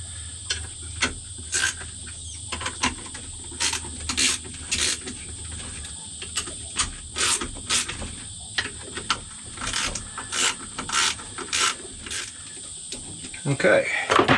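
A wrench ratchets and clicks in short bursts while bolts on a Jabsco pump are torqued up, the rhythmic metallic ticks close and clear.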